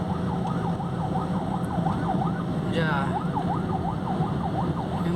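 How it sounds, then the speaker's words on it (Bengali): Ambulance siren on a road in traffic, its wailing tone rising and falling steadily throughout over a constant rumble of engines and traffic noise, with a brief burst of another horn partway through and a voice speaking. "অ্যাম্বুলেন্স এক সাইড দিলাম"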